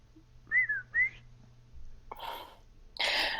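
A human voice imitates a creature's questioning whistle with two short, rising-falling whistled notes, followed by breathy throat noises and a rougher burst of sound.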